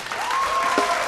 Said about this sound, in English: Round of applause for Randy I